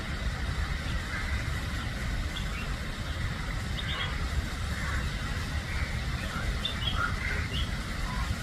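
Birds chirp and call intermittently in a Japanese-style garden at the Empress Garden in Pune, their small tweets scattered over a steady wash of background noise and a faint low rumble of distant traffic.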